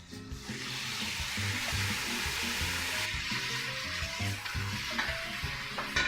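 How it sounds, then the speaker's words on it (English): Beef for a Southwestern barbecue chili browns in a hot pan, giving a strong, continuous sizzle and crackle with faint stirring and pan knocks underneath. "I'm ready to add this meat to the pan"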